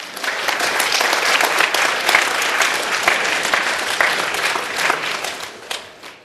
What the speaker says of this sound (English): this would be a good time for you to go ahead and applaud.